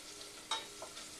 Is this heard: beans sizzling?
yes